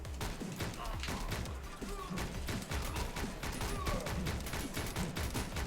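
Rapid gunfire from the video game Canabalt with Guns, a dense, steady barrage of shots that runs continuously and loudly throughout, with sharp repeated bursts layered over a busy game soundtrack.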